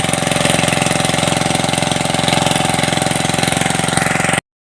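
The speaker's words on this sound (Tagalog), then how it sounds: "Yan mga kadil, paandar na yung makina." A farm machine engine runs steadily at close range, a loud, even, rapidly pulsing chug that holds throughout before cutting off abruptly at the end.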